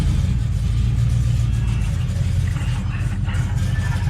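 A deep, rumbling truck engine runs steadily up close, with a low, throaty growl that surges slightly as it revs.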